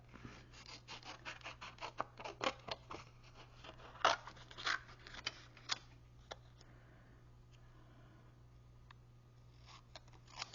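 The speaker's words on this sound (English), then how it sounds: "I'm just going to fussy cut" Scissors fussy cutting around a stamped image on paper for a card-making project: a run of quick, close snips and small rustles in the first half, thinning to sparse clicks later, with no talking.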